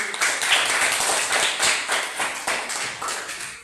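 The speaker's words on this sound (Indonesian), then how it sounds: "Tepuk tangan untuk kelompok matahari." Classroom clapping for a student group, a dense burst of many hands close by, steady and fairly loud for a few seconds with no talk over it.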